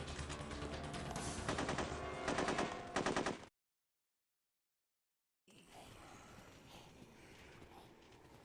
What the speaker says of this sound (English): God, I forgot how low quality those gunshots are